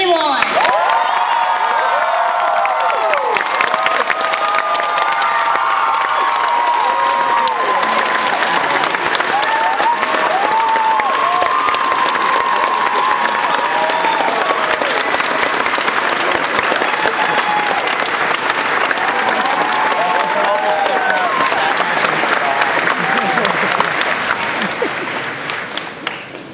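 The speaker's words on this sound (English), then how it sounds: "So let's give a big round of applause to Mr." A large Dragon*Con 2009 panel audience applauds for Leonard Nimoy, sustained loud clapping with scattered cheers and whoops filling the hall for about twenty-five seconds before tapering off at the end.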